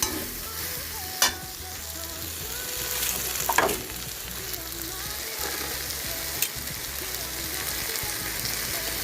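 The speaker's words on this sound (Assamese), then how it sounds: "জিৰা এইখিনি দি দিম এতিয়া" Cumin seeds frying in oil in a pan while a chicken curry is cooked, giving a steady close sizzle with a few sharp crackles and stirring clatters over about nine seconds.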